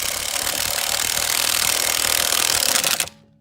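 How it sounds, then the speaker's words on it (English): Power drill running in reverse, angled against a locked, keyed lug nut on a car wheel: a steady, loud grinding whir that runs for about three seconds, then cuts off abruptly. "So I have the drill in reverse, okay?"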